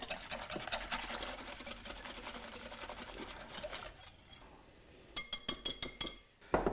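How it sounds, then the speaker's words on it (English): Egg yolks are whisked with sherry in a bowl for eggnog, a fast rhythmic clinking of the whisk against the bowl, then a pause before sharper, louder individual strokes resume. "So I'm going to give that a good whisk up"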